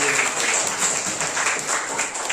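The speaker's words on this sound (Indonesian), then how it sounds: "Kasih tepuk tangan, betul sekali." Students in a classroom give a short round of applause, dense and continuous at moderate loudness, with some voices mixed into the clapping.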